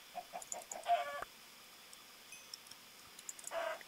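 Chickens cluck in a video game in two short, faint bursts, one near the start and one near the end, with quiet gaps between.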